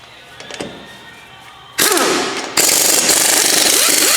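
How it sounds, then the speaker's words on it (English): An impact wrench spins off the front wheel lug nuts of a 1970 Ford Mustang with a 19 millimeter socket, loud close rattling hammering in two long bursts after a few faint clicks. "a 19 millimeter, and loosen and remove all 5 of these lug nuts on the front"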